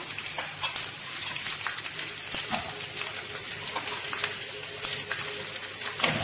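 Cashews and raisins frying in ghee for a green gram payasam, a steady close sizzle with scattered crackles and pops running continuously throughout, no voices.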